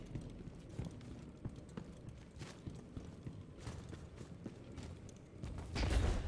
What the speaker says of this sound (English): I can hear him literally running right behind me